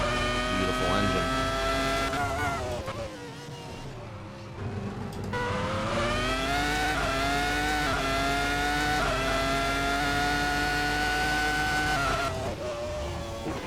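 Screaming F1 car engine in a racing video game on the Monaco circuit, high-pitched and loud, dropping briefly on a downshift before revving back up and holding a steady whine through the lap.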